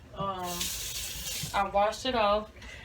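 Water runs from a kitchen tap as beef liver is rinsed. The flow gives a steady close rush broken by short gaps, and a voice sounds over it.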